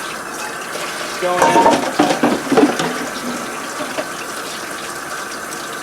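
Food rinsed under a running kitchen tap, a close gush of water that splashes in uneven bursts for a couple of seconds over a steady background hum, with a brief spoken remark.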